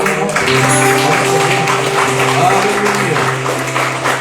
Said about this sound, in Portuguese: Pode sim, pode aplaudir Jesus, tem problema não.